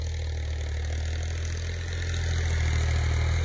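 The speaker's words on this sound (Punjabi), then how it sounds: "ਅੱਗੇ ਵਿਖਾਉਂਦੇ ਹਾਂ ਦੂਜੀ ਸਾਈਡ 'ਤੇ ਲੱਗਾ ਟਰੈਕਟਰ ਅਤੇ ਉਹ ਕੀ ਕਰ ਰਿਹਾ?" A tractor engine runs in a farm field in Pakistani Punjab with a low, steady, throbbing idle, close and continuous, without talk.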